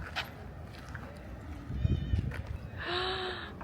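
Cats meowing outdoors while eating, faint scattered mews with one clearer, louder meow near the end, amid light shuffling and background noise.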